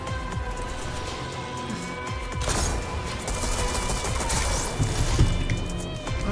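Suppressed SMG gunfire in Fortnite: rapid muffled bursts of shots and impacts over game noise, moderately loud and continuous.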